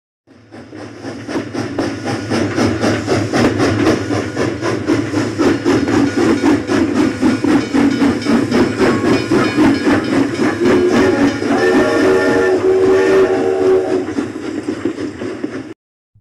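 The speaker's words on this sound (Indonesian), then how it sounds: "Inilah suasana pemberangkatan perdana kereta api yang dilakukan dari stasiun Bandung menuju ke Garut." Steam locomotive pulling out of Bandung station toward Garut on a first departure, with continuous loud chuffing and hissing steam throughout, and a sustained steam whistle sounding near the end.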